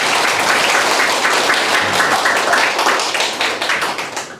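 An audience at a lecture bursts into loud, sustained applause, many hands clapping together, steady at first then thinning toward the end.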